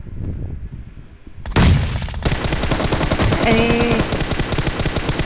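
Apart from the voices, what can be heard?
gunfire and headshot kill in a shooting video game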